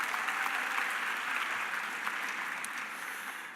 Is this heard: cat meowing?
no